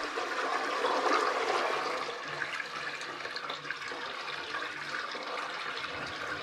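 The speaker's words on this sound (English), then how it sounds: "the toilet just flushes because it's magic" A bathroom toilet flushes after dirty aquarium water is poured in, a rushing swirl of water that is loudest early on and then settles into a steadier refill hiss.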